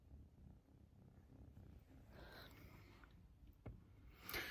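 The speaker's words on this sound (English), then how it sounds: "and she's purring." A kitten purrs softly and steadily close by, with faint rustling and a brief louder shuffle near the end.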